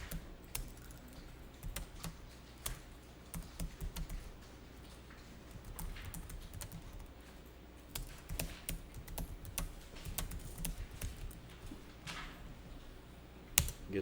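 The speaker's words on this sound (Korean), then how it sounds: "거기다 타자합니다." Steady clicking of keys on a computer keyboard, irregular bursts of typing with short pauses, close and fairly quiet, no voices.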